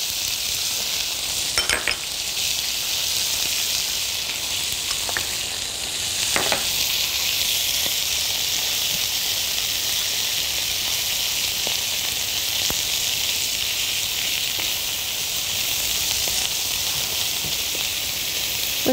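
Stuffed mixed vegetables frying on their second side with onion in a pan, a dense steady sizzle throughout with occasional sharp clicks and scrapes of a utensil.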